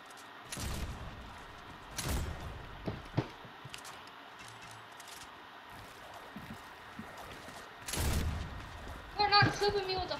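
Flintlock pistol shots ring out in a video game duel: a few sharp, widely spaced cracks stand out against a quiet background, with voices talking in between.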